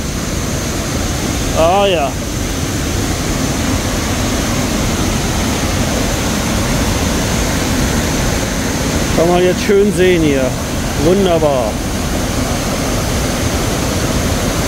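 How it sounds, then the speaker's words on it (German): Steady broadband roar of a waterfall in Chiang Mai fills the scene from start to finish, with someone speaking briefly in German over it at a few moments. "da oben kommt der Wasserfall dann runter"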